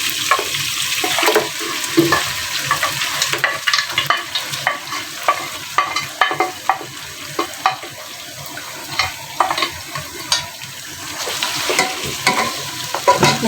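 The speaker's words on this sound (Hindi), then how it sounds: "मसाले में इस भिंडी को भून लेंगे।" Okra and mutton fry in masala in a pan, a continuous sizzle broken by repeated scraping and stirring strokes of a spatula, close and steady with no talking.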